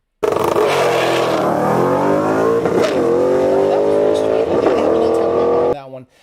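A Ford Mustang launches hard, its engine roaring loudly as it accelerates through several gear changes before cutting off abruptly.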